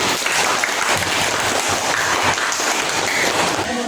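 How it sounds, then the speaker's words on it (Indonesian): Students in a classroom applaud together, a dense, steady clatter of many hands clapping at close range for about four seconds, with no talk over it. "Berikan tepuk tangan."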